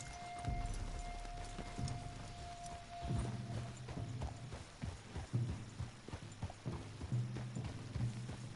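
Horses clip-clop at a steady walk in a PS4 video game, hooves thudding rhythmically and close for several seconds, with a faint tonal hum at the start and no talking.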